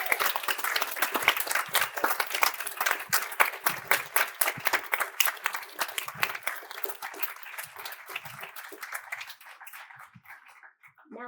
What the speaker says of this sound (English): Can I please have a round of applause for this incredible senior class?